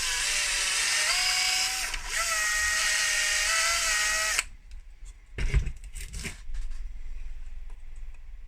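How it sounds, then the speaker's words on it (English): Power drill enlarging two tight holes in a 3D printed plastic part to 3mm for an RC Cat CS74B compactor model: a steady high whine for about four seconds, then stops, followed by handling clatter and a brief second burst. "These two holes were a little tight, so I'm going to drill them up to 3mm."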